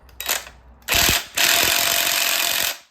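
An impact wrench hammers on the crank pulley bolt of a Lexus LS430, firing in a short opening burst and then two longer loud rattling bursts, close up.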